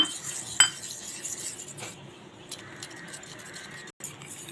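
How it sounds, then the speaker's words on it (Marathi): A spoon stirring custard powder into milk in a small cup or bowl, with faint light clinks and soft scraping swirls close by, one sharper tap near the start. "कस्टर्ड पावडर चांगली मिक्स करून घेतली आहे मी दुधामध्ये"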